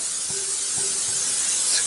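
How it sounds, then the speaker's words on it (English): Member's Mark canola oil sprays from a can onto a cooking liner, a steady close hiss lasting about two seconds, alone with no talk. "So I just spray my liner now."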